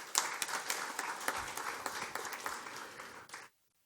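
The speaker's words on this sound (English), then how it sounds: "If I can get a round of applause for them." A conference crowd at a tourism event gives a sustained round of applause, many hands clapping in a full, even patter that fades off and stops cleanly.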